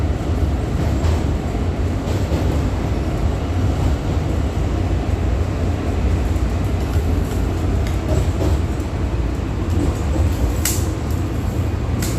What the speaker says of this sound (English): The yellow line train will open left.